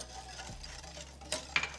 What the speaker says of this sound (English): Just continue to cook this and stir for the next 10 to 15 minutes.